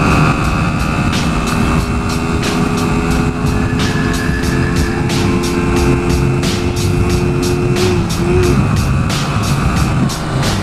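A 2021 Hyosung Aquila GV125 Bobber motorcycle at speed in fifth gear, its engine droning steadily under heavy, continuous wind rush, with a slight pitch rise near the end.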